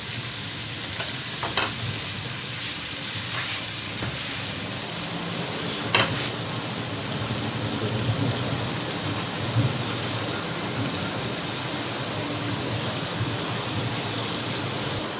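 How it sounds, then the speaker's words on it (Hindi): Onions fry with chili flakes and salt over a full flame, a loud, dense, continuous crackling sizzle with occasional sharper pops and a few stirring scrapes, heard close and without speech. "ये अच्छे से फ्राई होना शुरू हो गई है प्याज।"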